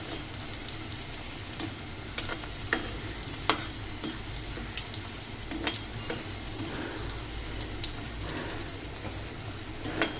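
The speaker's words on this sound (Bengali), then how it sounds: "উল্টিয়ে পাল্টিয়ে আমি নাস্তাগুলোকে ভেজে নিব।" Snacks (kurkura) frying in hot oil while being turned over, a steady dense sizzle with scattered crackles and light utensil clicks throughout, close and continuous.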